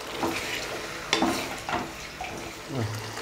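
Soft bubbling and sizzling of chicken tikka masala curry simmering in a pan on the stove, with occasional stirring scrapes, steady and close.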